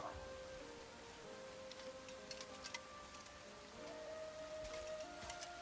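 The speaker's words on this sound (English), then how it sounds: "Is this the first time it's been raining?" Rain falls in the video game Crimson Desert, a faint, steady patter with occasional sharper drips over a low sustained musical tone, with no voices.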